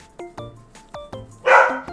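A dog barks close and loud, giving a few sharp barks in quick pairs and then a rougher, noisier yelp at the end.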